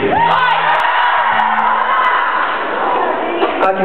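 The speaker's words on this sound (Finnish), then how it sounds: "Kaikki huutaa niin eri juttuja" A concert crowd at a show in Kuusankoski shouts and cheers loudly and continuously, with whoops and yells filling the space close by.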